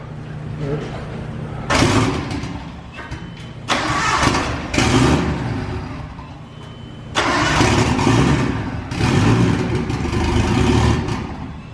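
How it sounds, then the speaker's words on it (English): A Nissan 240SX drift car with an RB20DET engine cranks and fires up, running in loud rough bursts that surge and settle several times without hard revving, with voices faintly in the background. "I'm not gonna rev it. I'm just gonna start it up."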